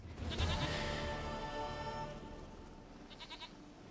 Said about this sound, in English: Dearest, sweetest goat.